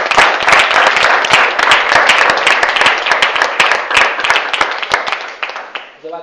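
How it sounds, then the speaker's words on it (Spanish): Audience applause fills a university faculty hall, dense steady clapping from a large crowd that holds loud and even before fading out near the end. "Así que yo les pido que le hagamos un tradicional aplauso."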